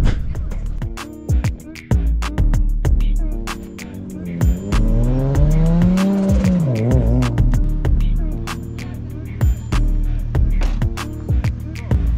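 A car at a YouTubers' car meet revs hard and its tyres squeal in a rising, wavering screech through the middle, over a busy, clattering event background.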